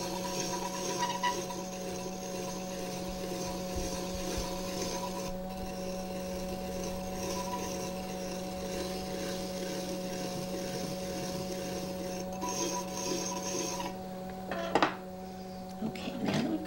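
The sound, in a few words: trimming clay pot on a pottery wheel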